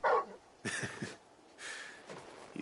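A dog in the Final Fantasy XVI video game barks and yips in short bursts, with quiet gaps and a breathy whine between.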